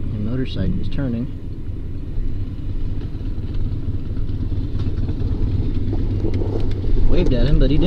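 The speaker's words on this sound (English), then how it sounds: "The motorcycle is turning." Steady road engine rumble from a passing motorcycle turning on the road, with a semi-truck nearby, a continuous low drone that swells slightly near the end while a person talks over it.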